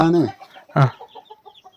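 A chicken clucks close by, two short throaty calls followed by softer, quick clucking chatter that trails off.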